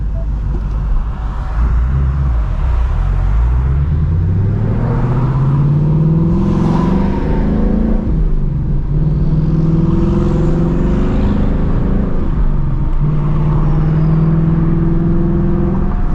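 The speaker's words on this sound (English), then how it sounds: "that auto rev match is something else" Toyota Supra engine using automatic rev matching, heard loud from inside the car as the engine note climbs in repeated rising sweeps between shifts, with no talk.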